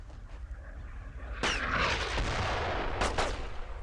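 Gunfire in the World War II shooter Brothers in Arms: Road to Hill 30, a few loud sharp shots and bursts over a rumbling battle background, no voices.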